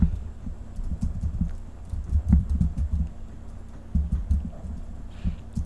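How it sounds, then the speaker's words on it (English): Keys on a computer keyboard are tapped in quick, uneven bursts with short pauses while a church flyer is being typed. The clicks are close and fairly soft, and nobody speaks. "Hey, see what I'm typing on?"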